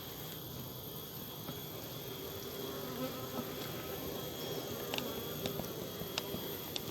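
A dense, steady buzzing of many Apis mellifera honey bees at their nest, close and continuous, with occasional brief sharper sounds over the drone.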